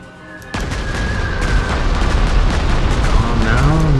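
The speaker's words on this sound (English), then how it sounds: "And we can bomb this guy like so." Bombing explosion in the WWII strategy game Panzer Corps 2: a sudden loud boom bursts in after a quiet moment, followed by a rumbling, crackling roar that swells and lingers, with a voice talking underneath.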